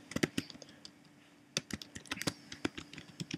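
Quick bursts of typing on a computer keyboard, crisp close clicks in two short runs separated by a pause of about a second, entering letters at the end of a file name.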